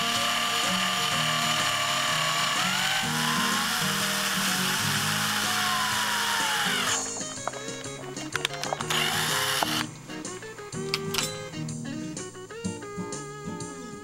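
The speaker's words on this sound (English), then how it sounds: "I'm going to drill a 1/4 inch hole right through the case here to start with." A small power drill bores a 1/4 inch hole through the plastic case of a DX6i radio transmitter, a loud steady whine for several seconds, then stop-start bursts and clicking as the bit breaks through.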